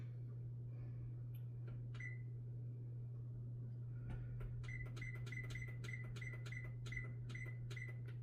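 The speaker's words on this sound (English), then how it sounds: "I am going to set my timer." A kitchen timer is set while beef osso buco is being cooked, giving a few isolated beeps followed by a quick run of short, evenly spaced button beeps over a steady low appliance hum.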